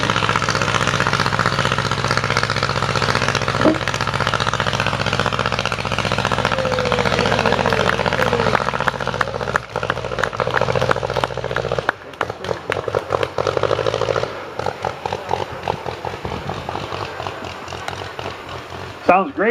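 A 1910 Hanriot airplane's rotary engine running at an outdoor airshow, a steady loud mechanical drone that turns choppy and uneven later on with sputtering bursts as it revs.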